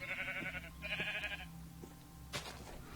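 Two clear sheep bleats in the video game Industrial Rotation, each a wavering nasal call lasting about half a second, followed by a sharp knock over low background hum.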